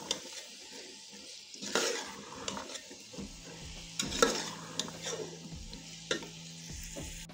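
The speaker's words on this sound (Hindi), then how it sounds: "अब इसको अच्छी तरीके से कर लेंगे मिक्स। 2 से 3 मिनट के लिए हम इनकी बुनाई करेंगे।" Potatoes and peas roast in an oiled pan while a spoon stirs them, giving repeated scraping strokes over a soft steady sizzle, moderately close with no voices.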